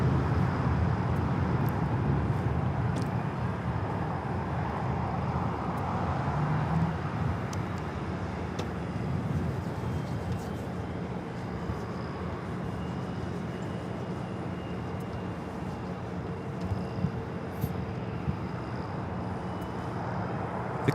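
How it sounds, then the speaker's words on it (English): A United Airlines Boeing 757-300 takes off at LAX, its broad jet roar filling the air steadily and fairly far off, slowly easing as the aircraft climbs away. "This is United Airlines 1431 taking off to Honolulu on the 757-300."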